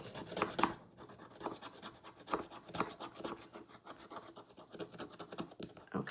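A coin scratches a blackjack scratch card in short rasping strokes, several bursts of close, dry scraping with small pauses between them.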